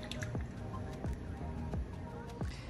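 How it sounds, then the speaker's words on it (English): A heavy cream and cream cheese mixture stirred in a pan for a low-carb Philly cheese steak casserole makes quiet, wet squelching sounds that repeat roughly every half second in a steady rhythm. "So I am continuously stirring this."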